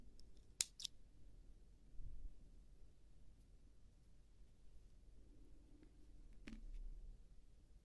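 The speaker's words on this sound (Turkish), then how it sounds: "İpimi kesiyorum." Scissors snip through yarn at the end of a crochet edging project, giving a couple of quick, crisp close cuts followed by a later single snip against a quiet room.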